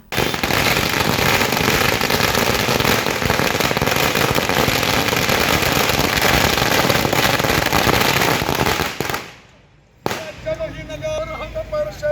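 Firecrackers burst in a dense, loud, continuous crackling barrage for about nine seconds at a street celebration in Sangli. The barrage cuts off abruptly, and afterward only faint background noise and some voices remain.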